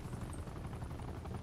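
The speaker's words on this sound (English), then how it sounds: "Attack chopper standing by." An attack helicopter in Call of Duty Black Ops 4 gameplay makes a steady, dense rotor thrum with rumbling low end, continuous and fairly quiet throughout the short stretch.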